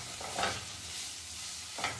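Capsicum pieces for chicken rolls frying lightly in a pan, with two brief stirring scrapes over a steady soft sizzle.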